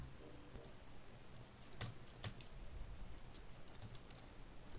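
Quiet typing on a computer keyboard during a gaming session, with soft scattered key clicks and two slightly louder taps over a faint steady background hiss.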